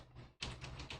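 Keys clack on a computer keyboard while a command is entered, a faint brief burst of quick close taps with no voices.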